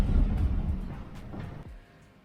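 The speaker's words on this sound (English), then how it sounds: "Just after lunchtime, a thunderstorm surprised us in the Gulf of Cadiz." A deep, rolling rumble of thunder from a thunderstorm in the Gulf of Cadiz sweeps through, loud at first then fading away, with gusty wind buffeting in the background.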